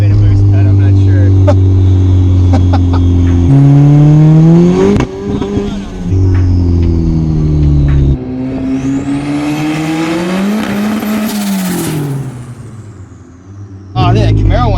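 A turbocharged car engine on a dyno revs hard through rising and falling pitch, with a sudden cut and pop, close and loud, while people talk and cheer over it.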